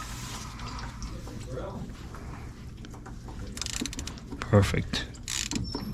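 A ratchet works on a bolt of a Mercedes/Dodge Sprinter high-pressure fuel pump, giving low mechanical clicking and clattering under a man's brief speech, with a louder metallic knock near the end.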